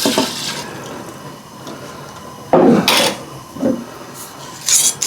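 Bourbon mixed in big old pickle jars, with liquid sloshing and swirling, glass scraping and rubbing, and a few louder splashy bursts over a steady background, close and fairly loud.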